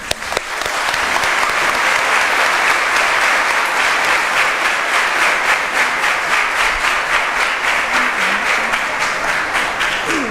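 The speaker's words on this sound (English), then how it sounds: "please join me in giving a big round of applause for the first speaker from the affirmative side" An audience at an inter-school English debate claps steadily for about ten seconds, a dense, loud and even roar of many hands with no voices over it.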